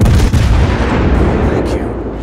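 Naval guns boom in a World of Warships battle, heavy dense firing rumbling continuously and loud, with an early sharp report and sustained low thunder fading slightly.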